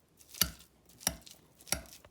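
Boiled potatoes being mashed for fried potato balls, three sharp, evenly spaced thuds of the masher hitting the pot, close and clear with quiet between.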